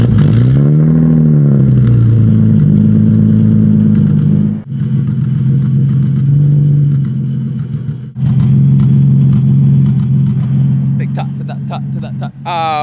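A Nissan 370Z engine turns over and runs loudly up close, its pitch rising and falling as it revs, with a brief clatter near the end.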